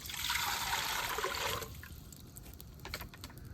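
Water from a mug pours into a pressure cooker for steaming bhapa pitha, a steady trickling splash for about a second and a half before settling into quieter ambient clatter.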